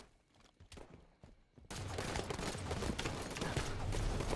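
Gunfire in Halo 5 during a free-for-all match, first a few scattered shots, then a dense, loud barrage of bursts that runs on without a break.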